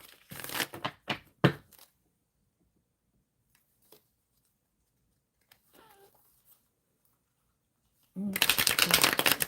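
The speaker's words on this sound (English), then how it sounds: "Shuffling for Witchy." Tarot cards are shuffled up close during a live card reading: loud riffling bursts at the start, a long quiet stretch with faint handling noises, then another sustained shuffle at the end.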